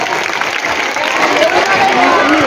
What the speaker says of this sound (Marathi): एकदा जोरदार या कलाकारांसाठी टाळ्या वाजवा